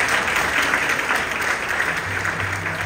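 A crowd at a children's book fair in Dakar claps steadily and loudly throughout, a dense, even wash of applause with no voices standing out.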